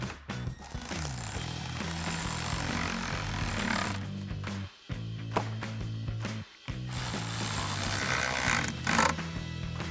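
Ratchet with an 8mm socket tightening the intake clamps of a K&N cold air intake on a 2014-2019 Corvette C7, giving dense repeated clicking in bursts with two brief pauses, close and loud.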